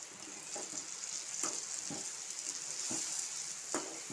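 Hog plums (amra) sauté with spices and salt in a pan, giving a soft continuous sizzle with periodic stirring scrapes about once a second, quiet and close.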